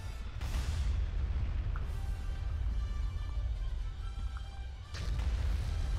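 Bombing run in a Star Wars battle video game: a dense, continuous low rumble of distant explosions rolls throughout, with sharper bursts near the start and end and faint tonal game sounds above.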